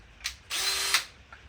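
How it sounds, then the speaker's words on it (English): A power drill bores through the wood of a DIY ball python enclosure in one short, close, loud whirring burst lasting about half a second, with brief handling noise before it. "is I just drill through and get it done"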